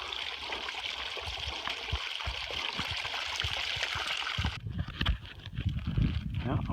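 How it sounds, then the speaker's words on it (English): A waterfall on the Appalachian Trail rushes steadily under light rain, a continuous broad wash with footsteps and movement thumping close by toward the end. "We are now walking up the Appalachian Trail waterfall."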